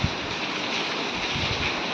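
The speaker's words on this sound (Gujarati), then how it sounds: "કેવો પવન ને વાવાઝોડું છે" A strong wind and rainstorm roars outdoors as a steady, dense, loud rushing noise with no breaks and no voices.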